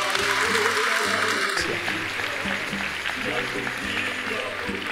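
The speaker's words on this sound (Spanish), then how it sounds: "Un aplauso a la gloria de Dios." A church congregation clapping during a Catholic Mass, steady applause mixed with sustained musical tones from instruments playing along underneath.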